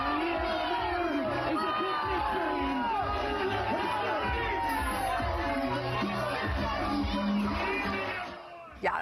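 A crowd at an NYPD event in Staten Island boos, jeers and shouts at New York City Mayor Zohran Mamdani, a dense, loud and continuous roar of angry voices that cuts off abruptly near the end.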